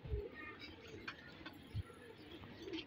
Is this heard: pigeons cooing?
yes